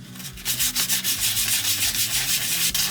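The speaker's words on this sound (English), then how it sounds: "take some sandpaper" Sandpaper rubbed back and forth over a steel kitchen knife blade in a workshop, a steady rhythmic rasping of about ten strokes, close and even, with no talking.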